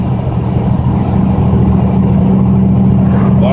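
A truck drives up a steep, winding mountain road, its engine a loud, steady low drone with constant road rumble and no talk over it.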